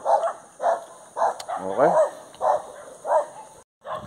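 Dogs barking along a barefoot running route, repeated sharp barks every half second or so with a few whimpering yips, fairly close, and a runner speaks briefly.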